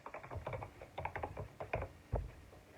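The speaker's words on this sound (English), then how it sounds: "I must have typed in the wrong thing." Rapid keystrokes rattle on a computer keyboard in uneven bursts, with short pauses and one harder final tap, close and clear, with nobody speaking.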